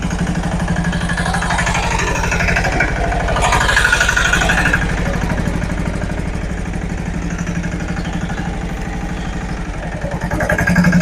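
A Sanedo mini tractor engine runs steadily at close range, a throbbing, clattering idle with a brief rise in revs partway through.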